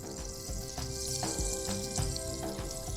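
Ginger garlic paste sizzles steadily in melted butter in a pan, a constant close frying hiss with faint stirring scrapes and no voices.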